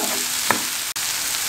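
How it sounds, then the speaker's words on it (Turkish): Tomato paste and spices sizzle steadily in a pan, with a single soft scrape of stirring partway through. "Şimdi salçanın kokusu çıkana kadar iyice bir karıştıralım"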